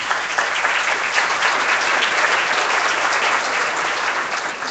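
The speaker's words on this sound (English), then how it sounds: "If you will hold your applause till each group, and then I'll cue you for applause." Steady, dense applause from a banquet audience at a political fundraising dinner in Tyler, Texas, greeting the event sponsors; continuous clapping at even loudness throughout, with no talk over it.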